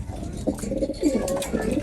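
Racing pigeons in a loft coo in low, throaty, repeated phrases at close range, with several overlapping calls against a steady background murmur.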